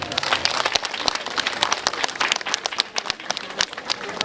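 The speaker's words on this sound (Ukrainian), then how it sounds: "аплодисменти." Steady applause from an audience at an autumn fair award ceremony in Ukraine, dense continuous clapping close by for about four seconds with no talk over it.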